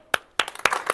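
Hands clap sharply four or five times in quick, slightly uneven succession, each clap close and distinct against a quiet room.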